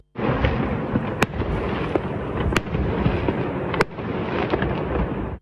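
A dense, continuous crackle of fireworks fills the air over Kyiv's Podil district, with a few sharper bangs popping out above the steady roar.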